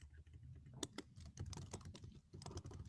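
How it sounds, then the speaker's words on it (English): Someone types quietly on a computer keyboard during an online introductory Python class, giving a faint, irregular run of quick key clicks with short pauses. "But you can finish typing that."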